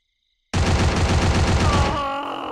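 Rapid automatic gunfire from a Free Fire match bursts in after a half-second of silence, a loud sustained rattle of shots, then trails off into ringing echoes and a faint tone near the end.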